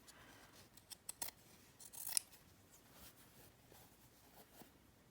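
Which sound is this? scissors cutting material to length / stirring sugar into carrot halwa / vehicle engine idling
scissors cutting material to length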